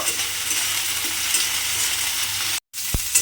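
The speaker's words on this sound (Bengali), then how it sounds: "পেঁয়াজটা আমি তেলের মধ্যে দিয়ে দিলাম, দিয়ে একটু নাড়াচাড়া করে ভেজে নেব" Onion sizzling steadily in hot oil, a dense close frying hiss with faint stirring scrapes, briefly cut by a short gap and a single clink near the end.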